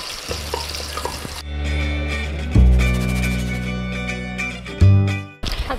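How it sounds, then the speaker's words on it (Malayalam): Garlic dropped into hot coconut oil in a pan, sizzling and crackling up close, with a couple of louder bursts as it is stirred and the frying fades briefly at the end. "മൂപ്പ് എത്തിക്കഴിയുമ്പോൾ നമുക്ക് വെളുത്തുള്ളി ഗാർലിക്ക് ഇട്ട് കൊടുക്കാം."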